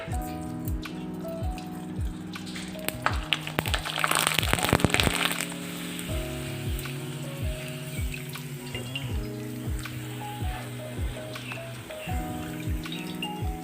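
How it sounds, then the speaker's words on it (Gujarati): A rice-flake papad hits hot oil and gives a short burst of loud crackling and popping that soon settles, while plucky background music plays throughout. "તો અહીં મેં તેલ ગરમ કરી લીધું છે અને એક પાપડ નાખી આપણે ચેક કરી લેશું."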